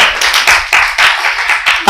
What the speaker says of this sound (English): Ladies and gentlemen, can we clap for Rita again?